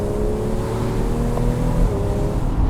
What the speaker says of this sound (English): So here you go, here's Sport Plus, here's an upshift.